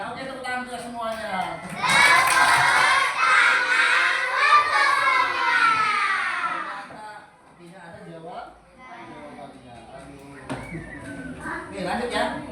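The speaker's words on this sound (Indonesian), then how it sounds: "Oke, tepuk tangan kita semuanya." A group of children clap and cheer together in a classroom lesson, a loud burst of applause and shouting lasting several seconds before fading into voices talking.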